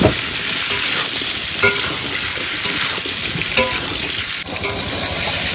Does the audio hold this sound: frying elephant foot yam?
yes